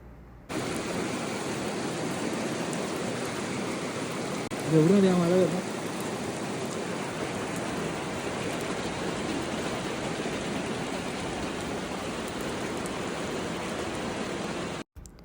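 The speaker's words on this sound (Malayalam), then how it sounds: "വലിയ മഴയായിരുന്നു" Steady heavy rain at Vattavada, Kerala, roars without a break, a dense hiss of water pouring down, with a brief voice near the start.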